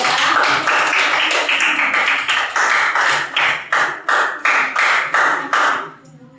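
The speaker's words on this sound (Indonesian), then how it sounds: "mari kita tepuk tangan untuk kelompok 3" A classroom group claps together in a steady burst of applause, evenly rhythmic and fairly close, tapering off and stopping after several seconds.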